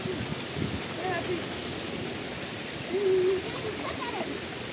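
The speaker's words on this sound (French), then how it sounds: "Une cascade." A waterfall near a small beach gives a steady broadband rush of falling water, constant and fairly close, with people talking over it.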